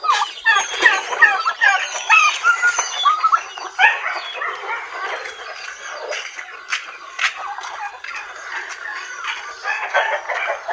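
Native chickens cluck and chatter in a farmyard, a busy overlapping flock of short calls and squawks at close range, with a faint rooster-like call mixed in and no clear talk.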